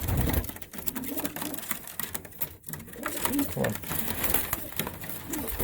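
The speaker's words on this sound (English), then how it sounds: "This guy is actually a brother to my favorite pigeon last year." Pet pigeons cooing, soft low throaty coos scattered through the clip alongside flapping and shuffling, with someone talking quietly nearby.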